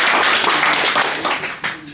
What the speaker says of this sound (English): Round of applause, ladies and gents.